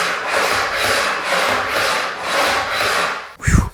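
A scratch test scraped back and forth across laminate flooring, giving a loud, rough rasping in several steady strokes, followed by a brief heavy thump near the end.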